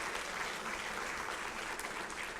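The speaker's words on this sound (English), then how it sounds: "You can clap for that, absolutely." An audience at a college state-of-the-college address applauds, a dense, even wash of clapping from many hands that holds steady throughout.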